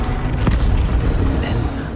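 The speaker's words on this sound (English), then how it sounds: "First, the firestorm from the cannon." Heavy cannon fire rolls out in the Battlefield 1 video game as a dense, loud, sustained boom and rumble with a sharp blast partway through, filling the whole moment without talk.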